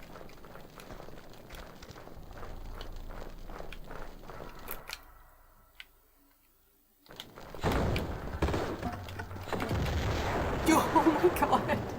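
A grenade launcher fires in the video game Tomb Raider II, set in the Catacombs of the Talion, with dense booming blasts and rumbling explosions filling the latter half after a quiet gap, layered over busy game noise.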